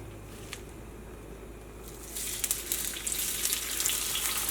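Onions fry in oil with a low, even sizzle that swells louder halfway through, with soft crackles and stirring noises on top, heard alone without talk.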